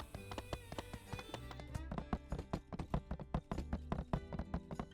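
Horse hooves clip-clop in quick, regular rhythm as a rider travels in the game My Time at Sandrock, close and clear over a quiet background.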